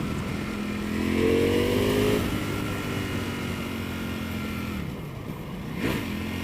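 A 2018 Ducati V4S motorcycle pulls hard in sport mode, its engine note rising loud and close as it revs through a gear change before climbing again, with no voices.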